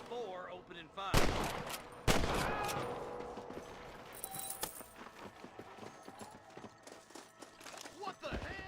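Gunfire rings out in Red Dead Redemption as two loud, sharp shots crack out early on. Horse hooves clatter and scattered shots and movement noise follow, with voices talking over the action.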